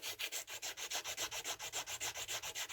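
A sandpaper strip pulled back and forth across a knife blade in shoe-shine fashion, a fast even rhythm of close, bright rasping strokes with no talk.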